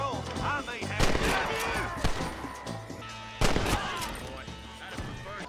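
Gunshots in the western video game Red Dead Redemption, several sharp loud cracks with echoing tails, spaced a second or two apart, with someone speaking between them.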